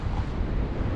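Wind gusts roughly across the microphone by the sea, a loud, continuous low buffeting rush with no voices.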